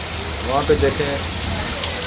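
Heavy rain pours down over a flooded lane, making a steady, dense hiss that continues throughout while someone talks over it.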